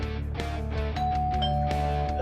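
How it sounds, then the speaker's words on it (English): A house doorbell rings with bright, layered chime tones, several strikes overlapping and ringing on over a steady musical background. "The doorbell rings"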